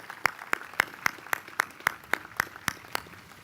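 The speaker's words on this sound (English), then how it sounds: "Could we give Troop 1353 a round of applause?" A single person claps slowly and evenly at a city inauguration ceremony, about eleven crisp claps in a steady rhythm, fairly faint against a quiet room.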